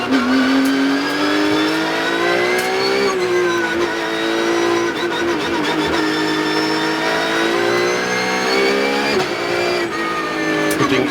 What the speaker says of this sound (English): all the cars are leaving the pit lane